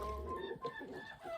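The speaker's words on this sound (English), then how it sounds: "Happy ducks." Ducks in very cold weather give a burst of close, steady, chattering calls that run without a break, with no voices over them.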